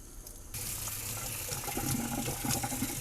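Water gushes from a tap onto a moss pole used for plant care, starting suddenly and then running as a steady, fairly quiet splashing stream.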